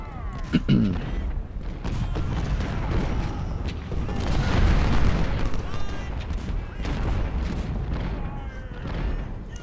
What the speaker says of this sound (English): This is long range cannon fire